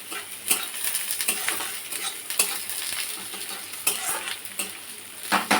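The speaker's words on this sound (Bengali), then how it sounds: "পেঁয়াজটা একটু ভাজা ভাজা হোক আর এখানে ঢ্যাঁড়সটাও চলছে" Onions and okra fry in a pan for a Bengali okra-poppy-seed dish, a steady close sizzle broken by scraping stirs and light utensil clinks against the pan throughout.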